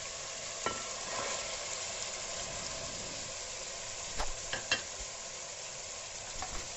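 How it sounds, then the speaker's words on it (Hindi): Boneless chicken browning in a pan, a soft steady sizzle with occasional spatula knocks and scrapes, close but fairly quiet. "चिकन का कलर चेंज होने तक इसको मैं भूनूंगी।"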